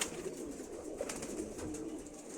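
Racing pigeons coo softly at their loft, with low, murmuring calls repeating over a steady hum of background noise and no speech.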